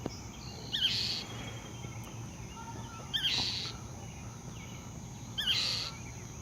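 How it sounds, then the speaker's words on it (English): A bird calls in three short, sharp bursts spaced about two seconds apart, standing out over a steady low hum and faint insect-like background. "That is one pissed off bird."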